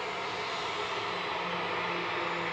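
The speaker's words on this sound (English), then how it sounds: "Heading off to Milan with Ryanair Flight 3216. This is the IDCM, a 737-800." Ryanair Boeing 737-800 departing Manchester Airport for Milan, a sustained broad jet-engine roar with a low rumbling undertone, steady and fairly loud throughout.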